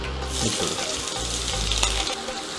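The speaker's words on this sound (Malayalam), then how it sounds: "എണ്ണ ചൂടായിട്ടുണ്ട് നമ്മളിതിലേക്ക് ഒരു ടീസ്പൂൺ കടുക് ഇട്ട് കൊടുക്കണം കേട്ടോ" Mustard seeds hit hot oil in a pan while a karakka pickle is being cooked, giving a close, loud, steady sizzle and crackle that lasts the whole moment.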